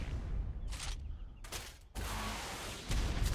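Rockets fire in bursts at metal turrets in the video game Ark, several sharp booming blasts separated by short gaps, loud and close, with no voices.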